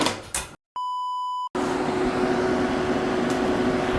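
A small nail dust collector gadget gives a short electronic beep, then its fan starts and runs as a steady, loud whir with a low hum that continues to the end.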